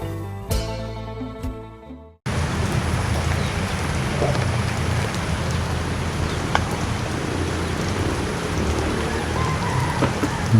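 Steady rain falls on a surface in a rural Thai setting, a dense, continuous hiss and patter that stays loud and even throughout once it begins after a brief quieter stretch.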